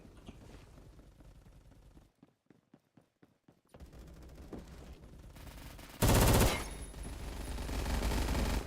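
Rapid automatic gunfire in the Roblox shooter game Phantom Forces: a stuttering run of separate shots, then a sudden loud burst and sustained spray of fire, dense and close over game noise.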